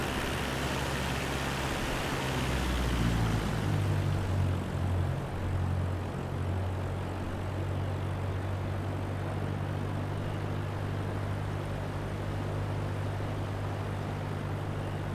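An aircraft engine in Microsoft Flight Simulator 2024, heard as a steady droning hum with a low tonal pitch that shifts and drops early on, then holds an even, continuous note throughout, loud and close with no talking.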